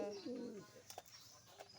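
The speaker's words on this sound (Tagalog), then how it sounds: "ito po yung ating isang kalapati" A single soft, low coo from a male pet pigeon, heard briefly and faintly at the very start, followed by a quiet room with a few small knocks.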